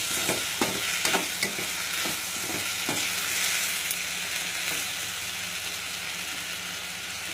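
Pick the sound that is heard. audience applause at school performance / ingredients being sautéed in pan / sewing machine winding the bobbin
ingredients being sautéed in pan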